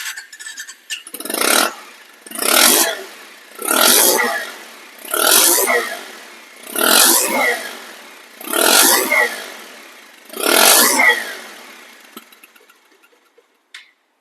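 A second-hand 2021 Bajaj Pulsar motorcycle engine revved seven times in a steady rhythm, each close, loud throttle burst rising and falling back to idle before the engine winds down at the end.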